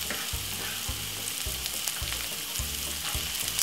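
Spring onion and garlic frying in a pan, with a soft steady sizzle and a regular pulsing low thump, likely from stirring, all fairly quiet and with no voices.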